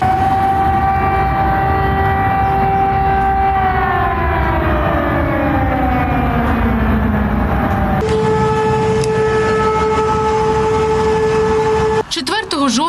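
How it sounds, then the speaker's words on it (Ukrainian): A civil defense air-raid siren is tested in Russia, wailing loud and continuous with its pitch sliding downward, then holding a steady drone before cutting off abruptly. "країна-терористка тестує систему оповіщення про повітряну тривогу"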